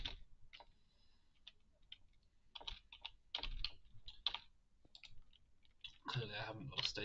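Keys clicking on a computer keyboard during a PC game stream, an irregular run of close, sharp taps and clatters that thickens toward the end, with a voice now and then in between.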